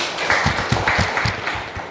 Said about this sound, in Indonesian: tepuk tangan buat Abi